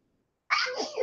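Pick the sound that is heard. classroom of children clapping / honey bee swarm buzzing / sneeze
sneeze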